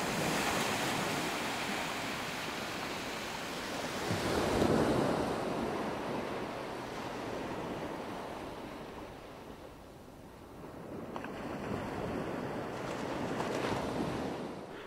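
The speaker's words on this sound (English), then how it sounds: "The moon-induced tide sends billions of gallons of water surging through these amazing landscapes." Sea waves and tidal water surge around a small boat on a duck punt trip to Blakeney, a continuous rushing wash with wind buffeting the microphone, swelling and easing in slow surges.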